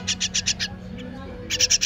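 A baby bird gives rapid, high-pitched squeaks in two bursts while being fed worms, loud and close, with a brief quieter gap between the bursts and a low steady hum underneath.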